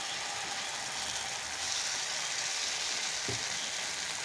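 Paneer dish frying in a pan with tomato sauce, giving a steady close hiss and crackle that holds evenly throughout, with a brief soft stir partway through and no talking.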